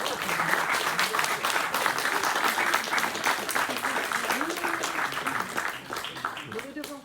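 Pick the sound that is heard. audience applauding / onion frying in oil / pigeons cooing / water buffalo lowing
audience applauding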